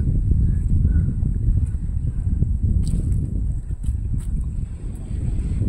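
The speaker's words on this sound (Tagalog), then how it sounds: "sobrang hangin dito" Strong wind on a small island buffets the microphone in a constant loud roar, with a few faint clicks and rustles in the background.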